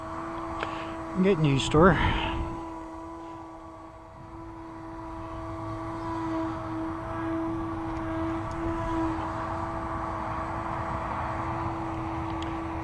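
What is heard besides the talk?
electric Brodak P-40B ARF model airplane flying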